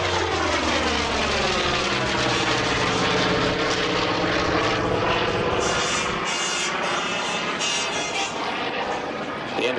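A Corsair F4U propeller fighter flies overhead at an air show, its loud, steady piston-engine drone and propeller roar filling the whole stretch with a slight fade near the end.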